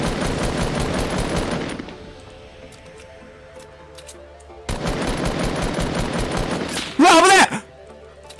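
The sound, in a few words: gunfire while being shot at in the video game Fortnite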